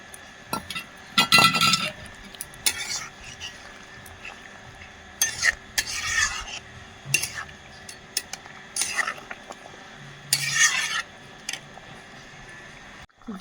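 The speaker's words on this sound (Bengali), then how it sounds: "জিরেটাও দিয়ে দেবো ঝোলে।" Ground cumin paste stirred into a simmering curry in a pot: intermittent scraping and clinking bursts of a spoon against the metal pot, spaced irregularly with quiet gaps and no talking.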